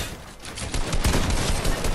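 Video game gunfire rattles in dense overlapping bursts, loud and close, with a steady barrage of shots filling the whole moment and no voices over it.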